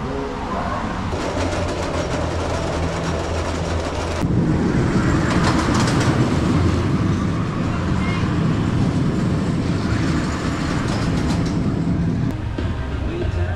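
The Twisted Cyclone RMC roller coaster at Six Flags Over Georgia rumbles and clatters along its track, a loud sustained roar of wheels and wind with shifts in intensity and some voices mixed in.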